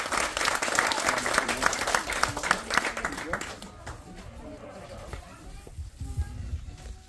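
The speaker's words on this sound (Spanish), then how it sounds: "Vamos a darle un fuerte aplauso a nuestra presidenta municipal constitucional" A crowd at an outdoor civic event for a park and multi-use court applauds the municipal president, dense loud clapping that fades after a few seconds, leaving quieter murmuring and talk.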